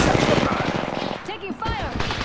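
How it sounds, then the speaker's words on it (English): Automatic gunfire in the Apex Legends video game: a rapid, loud burst of shots up close, a brief pause, then more firing, with in-game character voices calling out over it. "I am taking fire, friends. Firing!"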